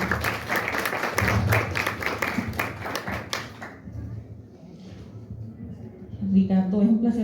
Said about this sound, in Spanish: Démosle la bienvenida con un aplauso, por favor, al autor.